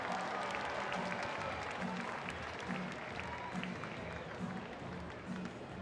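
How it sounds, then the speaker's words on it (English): Crowd at a rodeo arena applauding after a bareback bronc ride, a dense, sustained patter of many hands clapping at a distance, steady throughout with faint background voices. "Hey, Sydney, how about another big round of applause for Jared McCain?"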